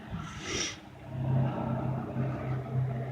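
The engine of a 1978 Ford F150 pickup runs at a moderate level, its revs rising and dipping slightly in a rough, uneven rumble.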